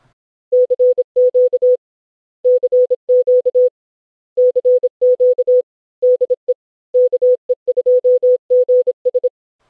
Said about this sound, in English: So that was a snippet of Morse code sent at 25 words per minute.